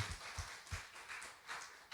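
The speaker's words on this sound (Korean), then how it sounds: "하나님께 감사의 박수" A church congregation claps together in thanks to God during a Sunday worship service, a faint, steady wash of applause with a loose rhythmic pulse of hand claps.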